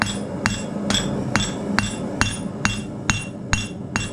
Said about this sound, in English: You're hammering away